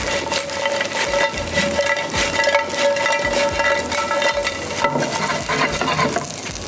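Food fried crisp in oil in a pan, giving a loud continuous sizzle and crackle close up, with scraping stirs running through it and no voices.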